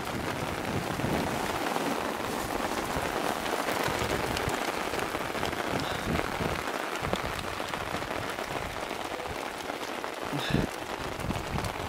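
Steady, dense rain pours down without a break, a loud continuous hiss of drops hitting surfaces, with no voices heard.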